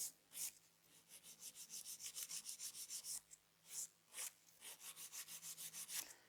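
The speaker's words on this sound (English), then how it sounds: "So now I'm going to finish the nail with the hand file." A hand file rubs quickly back and forth across a sculpted French acrylic nail in bursts of rapid, even strokes. The strokes are close and crisp, with brief pauses between the runs.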